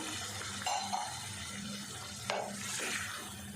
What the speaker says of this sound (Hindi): मैं 1 गिलास इसमें पानी डाल रही हूँ।